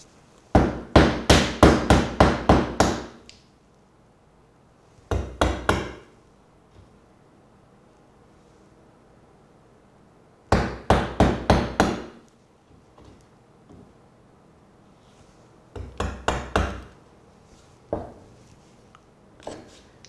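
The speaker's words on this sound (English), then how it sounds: "now I'm going to chisel all the way through." A mallet drives a chisel straight through a wooden board while chopping out dovetails for a blanket chest: rapid runs of sharp, woody knocks in several clusters separated by quiet gaps, close and loud, with no talk.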